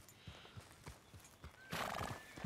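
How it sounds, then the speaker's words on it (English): A horse in Red Dead Redemption 2 clops along with regular hoofbeats and then gives one loud, close neigh that fills the final second. "So I, like, live here. Is this my horse?"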